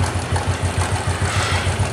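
Repaired motorcycle engine, newly fitted with a replacement carburetor, idling steadily close by with an even, rapid low-pitched putter throughout and no voices.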